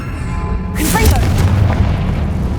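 A Confringo fire spell blasts off in Hogwarts Legacy, a sudden loud whooshing boom at about 0.7 seconds followed by a rumbling, crackling fiery tail, with game sounds playing underneath.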